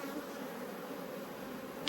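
Honey bees lifting off a hive frame during an inspection of a re-queened hive make a steady, dense buzzing drone that stays close and even throughout, with no talking.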